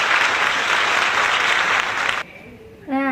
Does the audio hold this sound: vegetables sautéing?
no